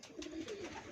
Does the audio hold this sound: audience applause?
no